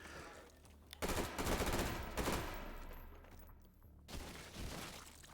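Rapid gunfire empties a full magazine in the VR shooter H3VR, with dense bursts of shots starting about a second in, a short gap, then a renewed string of shots near the end.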